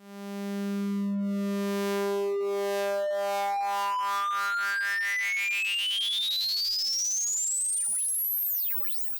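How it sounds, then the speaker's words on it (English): A wave-folded sawtooth wave synthesized in Pure Data: a steady buzzy tone whose harmonics pile up and sweep upward into a bright rising chirp with aliasing, then cut off near the end. "How about a sawtooth wave?"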